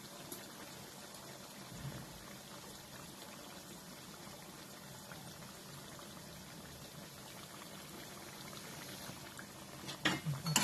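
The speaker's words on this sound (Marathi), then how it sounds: "आता हे चांगलं तळून घ्यायचं." Aloo poha vada frying in hot oil over medium heat, a faint, steady bubbling sizzle that continues evenly, with a few louder clinks and bumps near the end.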